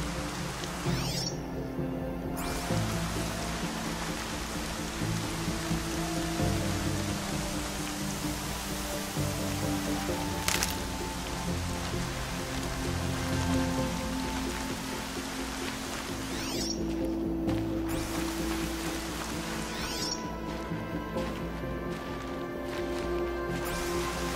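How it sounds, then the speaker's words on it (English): Heavy rain pours down steadily in a Horizon video game scene, a continuous dense hiss that runs throughout, broken by a few sharp, brief impacts and a rumbling low undertone. "Raining like it's trying to wash everything away."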